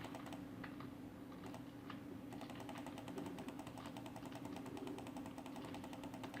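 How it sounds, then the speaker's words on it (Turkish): Rapid, uneven computer mouse clicks during a Brawl Stars match, sharp and close, running through steady game music and effects. "Farenin sesi çok geliyorsa kusura bakmayın basıyorum."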